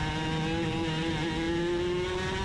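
A racing kart engine in a club race on track, a steady high-pitched buzzing drone with a rising tone, loud and close throughout with no talk.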